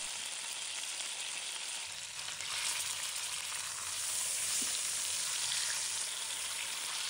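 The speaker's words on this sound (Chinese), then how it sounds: "把肘子放入锅中，中小火慢慢煎。" A pork knuckle pan-fries in a pot over medium-low heat, producing a dense, continuous bright sizzle that swells slightly partway through and carries on steadily with no talk.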